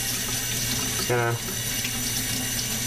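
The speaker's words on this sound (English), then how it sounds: "rinse them off in cold water" Cold tap water runs into a kitchen sink to rinse freshly dyed RC car parts, a steady broadband rush, with a brief louder burst as the flow shifts, while someone speaks briefly over it.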